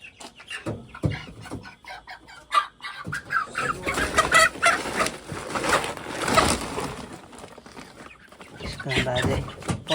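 Chickens cluck and squawk close by at a home, in bursts that grow denser and louder midway, with a person talking at times over them.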